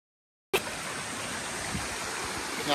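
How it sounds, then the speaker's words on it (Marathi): A small waterfall pours in a steady, full-bodied rush that starts abruptly after a brief silence and holds constant and close throughout. "बघा धबधबा आहे इथं छोटासा वरती आला"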